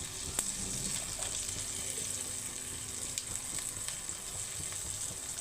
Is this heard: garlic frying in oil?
yes